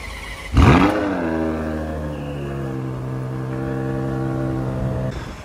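A car pulls away on a Paris street, its engine firing up abruptly, then settling into a steady, close revving drone with a clear rising tone that holds for several seconds.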